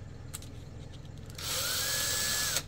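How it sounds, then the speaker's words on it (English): A drill spinning a flexible cable shaft sands the metal propeller shaft of an RC twin-hull catamaran boat, a steady whirring that starts partway through and runs on without a break. "put your flex cable on the drill"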